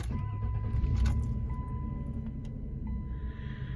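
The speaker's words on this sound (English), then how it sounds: "Now let's see if the new starter motor works." A new starter motor cranks the engine of a 1991 Chrysler New Yorker Salon, a steady low mechanical churn close by that carries on for several seconds without a break, with no talk over it.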